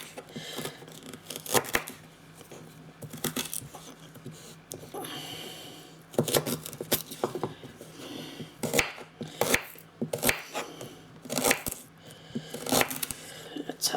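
Ginger root with the skin left on being chopped on a cutting board, a run of irregular knife strikes thudding through the fibrous root in uneven bursts, close and fairly loud, with no talking.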